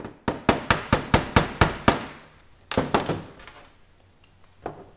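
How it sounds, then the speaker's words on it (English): Sharp metallic hammer blows drive a rivet post out against an 8mm deep well socket in a garage, a rapid run of about eight evenly spaced ringing strikes, then two more after a pause and a single lighter tap at the end, close and loud. "I'm going to bang the post out."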